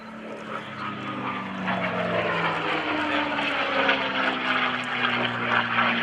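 A P-51D Mustang's propeller engine drones steadily at a distance, a sustained hum that slowly grows a little louder, heard at an open house event.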